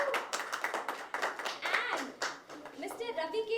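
Audience applause at a song launch event, a crowd clapping steadily with dense, brisk handclaps while a voice speaks over the top.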